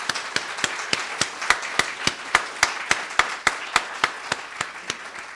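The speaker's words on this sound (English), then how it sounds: "So please join me in giving her a big round of applause." Slow, evenly spaced single claps, about twenty over five seconds, crisp and fairly close, from a small audience at an academic lecture event, with no talk.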